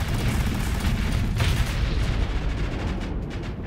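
Dense, continuous gunfire and booming explosions from a Starsector space battle, loud and close with no gaps between the shots.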